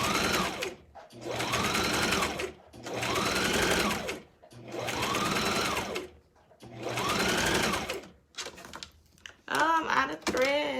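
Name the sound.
sewing machine stitching wig wefts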